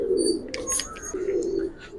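Pigeons in a loft give two soft, rolling coos in quick succession, close and fairly quiet, with faint higher chirps above them and no talking.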